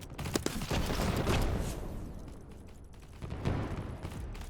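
Bolt action rifle fire in the futuristic FPS game ASTRAL, a few sharp loud shots with rumbling tails and booming echoes, spaced unevenly over a continuous battle din.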